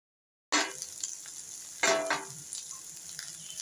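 Okra with onion, chilli and kokum roasting in a pan sizzles suddenly after a moment of silence, followed by a second sharp burst of frying noise and fainter crackling as it settles.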